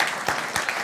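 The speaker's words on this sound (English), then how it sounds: "For a round of applause again for these folks." Brief burst of applause for guests at a regular council meeting, scattered claps rising and falling in a short crowd ovation at moderate level.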